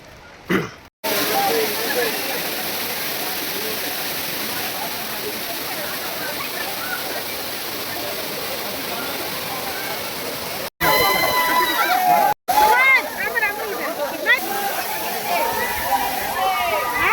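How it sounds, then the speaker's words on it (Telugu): Katiki waterfalls near Araku roar with a steady, dense rush of falling water close by, and people's voices are heard talking over it in the later part. "మనం వెళ్ళబోతున్నాం అరకులో కట్టి వాటర్ ఫాల్స్"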